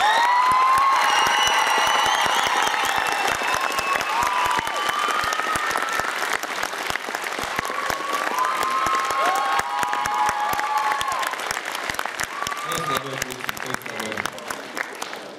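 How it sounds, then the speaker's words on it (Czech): Steady applause from a school audience for classes 3.A and Septima at a student performance contest, dense clapping with some cheering and shouts throughout, loud and continuous before easing near the end. "Prosím, potlesk pro třetí A a Septimu."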